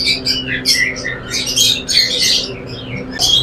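A pair of Kashmiri Ra parakeets in a bird shop give loud, harsh squawks and shrill chirps in quick irregular bursts, close by, over a low background hum.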